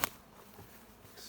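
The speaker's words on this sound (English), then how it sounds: "let's go try and catch some bees. I can hear them right here." A swarm of honey bees hums faintly and steadily outdoors, a low continuous buzz heard from a short distance, opening with a brief sharp click and carrying no talk.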